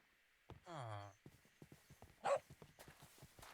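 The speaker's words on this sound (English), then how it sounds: "Is that a dog? Are you a dog?" A dog on a homestead gives one short bark-like yelp between stretches of quiet, with soft footstep-like taps and a drawn-out voice sound nearby.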